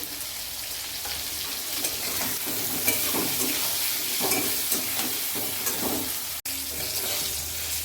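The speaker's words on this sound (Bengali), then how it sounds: "বেগুনটা লাল লাল করে ভাজা হয়ে গেছে" Brinjal pieces fry in hot oil with turmeric and salt in a home kitchen, giving a steady crackling sizzle, with occasional scraping stir strokes and soft clatter close by.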